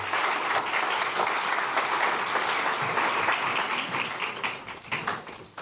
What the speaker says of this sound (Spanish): que se sienta ese aplauso para el señor Wellington Arnaud, director de INAPA